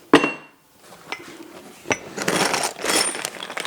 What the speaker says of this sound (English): Bag of bolts.